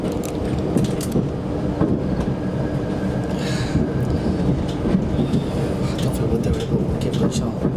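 A train moves with a steady, dense rumble under heavy rain, close by and fairly loud throughout, with faint talk in the background.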